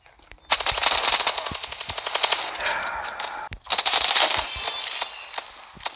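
Bursts of automatic gunfire in the mobile shooter Standoff 2, rapid close shots in two loud volleys separated by a short gap, with a few single cracks.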